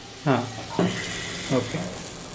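Chopped jackfruit vegetable sautéing in a pan, giving short sizzling and stirring bursts between pauses, fairly close and moderately loud.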